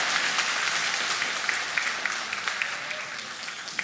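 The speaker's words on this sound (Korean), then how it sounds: "우리 인사하면 한 박수로 환영하도록 하겠습니다" A church congregation applauds in welcome during a Sunday worship service, a steady wash of many hands clapping with a few sharper individual claps standing out near the end.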